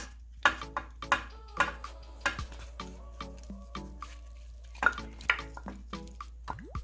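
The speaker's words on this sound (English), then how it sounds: "time to throw some corn in here." Corn ears cut into quarters go into a large soup pot for Bahamian crab soup, giving a string of sharp knocks and clunks against the metal with wet splashes, close and fairly loud, with no talking.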